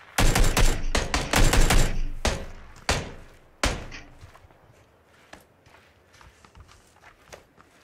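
Gunfire in the PUBG battle royale game, with a burst of rapid loud shots up front, then a couple of single sharp cracks and quieter scattered clicks and steps afterward.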